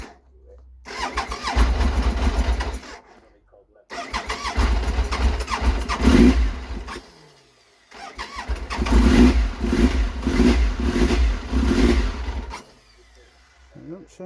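A Triumph Trident motorcycle engine starts roughly after sitting unused for over two years on old fuel with the choke applied, catching in three loud, uneven bursts that sputter and die between attempts.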